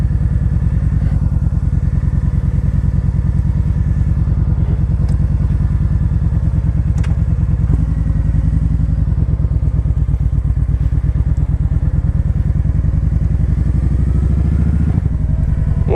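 A 2013 Kawasaki Vaquero motorcycle is ridden through Lancaster County, its engine giving a steady, loud, low rumble with wind noise and the odd light clatter throughout.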